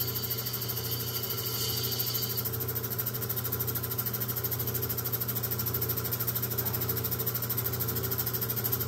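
A turquoise stone is ground freehand against a spinning lapidary wheel, producing a steady, droning motor hum with a faint gritty grinding texture, constant and close throughout without pauses.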